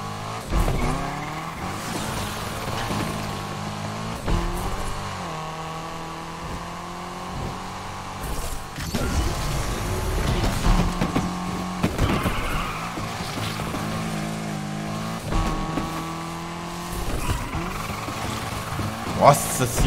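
An engine revs and shifts under steady drifting in the video game Need for Speed Unbound, with tire squeals and changing pitch throughout, while someone talks over it at intervals.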